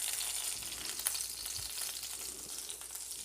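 Butter melting in a kadai still coated with oil left from frying prawns, giving a soft, steady hiss and crackle of sizzling with faint scraping, continuous and fairly quiet.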